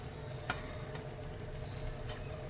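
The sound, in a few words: spices added to hot oil frying, Himachali saag chicken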